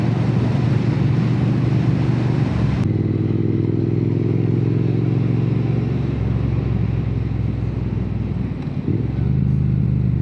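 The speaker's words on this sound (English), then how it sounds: "What a beautiful bike this Bonneville T120 is. Just so easy to ride, comfortable, lots of low down power, sounds fantastic." A Triumph Bonneville T120 twin fitted with Hitchcock slip-on exhausts rumbles continuously with a low throaty engine note, shifting tone as the revs change partway through, mixed with wind noise.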